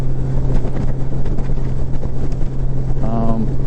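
A Honda Gold Wing DCT touring motorcycle cruising in 7th gear, a steady engine drone mixed with heavy wind rush close to the microphone, continuous and loud, with a brief voice near the end.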